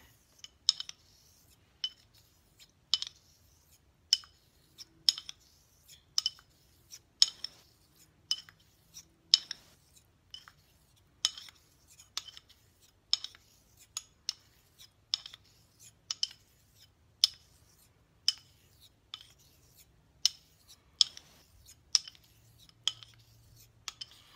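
A straight razor is drawn across a wet Mini Coticule honing stone in a steady series of about thirty short, crisp scraping strokes, each a quick tick-like rasp, close but quiet, with no talk.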